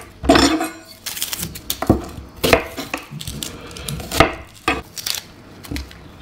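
A potato is peeled by hand in a home kitchen while red lentil soup is being prepared, giving close, irregular scraping and knocking strokes with small clinks of utensils, fairly loud and with no talking.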